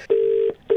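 Phone line tone after a call is hung up: a steady electronic beep holds for about half a second, breaks off, then starts again, loud and clean with no talking.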